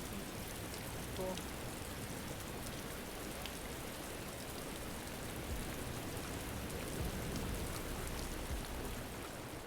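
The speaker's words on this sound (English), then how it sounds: "the sound for the rain gets louder as soon as you cross the threshold" Steady, moderately loud rain in a virtual world, heard just past a doorway threshold, as a dense continuous patter with no distinct drops standing out.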